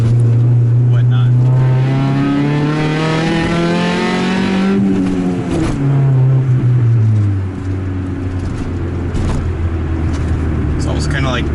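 A loud race car engine revs and drones with strong low harmonics, rising then dropping as the throttle lifts, with exhaust pops near the end.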